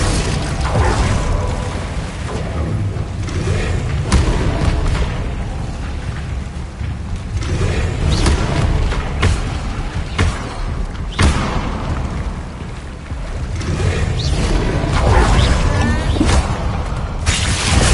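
Hogwarts Legacy spell combat with repeated explosions, shattering impacts and booming bursts crashing one after another at loud volume over a dense, busy background for the full length.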